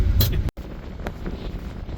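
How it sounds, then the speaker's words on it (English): Strong wind buffets the microphone on open lake ice in Fairmont, Minnesota, a loud, steady low roar with gusty swells and one brief dropout. "It's windy."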